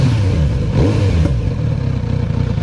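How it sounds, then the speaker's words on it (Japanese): A Kawasaki Z900RS motorcycle engine idles roughly and revs, with a low throbbing exhaust and a few sharp pops and clatters from the muffler. "これマフラーが今パスって言いましたね"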